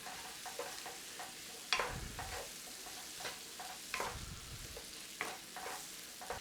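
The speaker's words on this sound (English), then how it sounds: "Stir it in." Shepherd's pie filling sizzles softly in a pan while pepper is stirred in, with a scattering of scraping spoon strokes and knocks over the low, close frying hiss.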